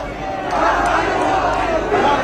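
A large, dense crowd fills the street at a Varanasi road show for Narendra Modi, a continuous loud roar of many voices with rising cheers.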